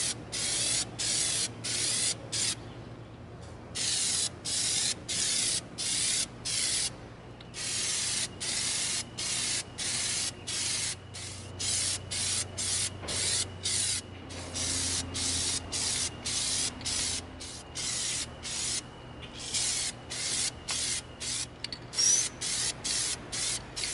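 Plastidip rubber coating sprayed from an aerosol can onto an EVA foam impact grenade, short hissing bursts repeating in quick pulses with brief gaps, close and fairly quiet, with longer pauses now and then.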